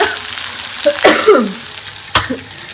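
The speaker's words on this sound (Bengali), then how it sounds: "এখানটা আমি উচ্ছে আলুর দোল করছি ভেজে" Bitter gourd and potato sizzle softly in a frying pan, with a few scraping stirs and brief clatters near the cooking.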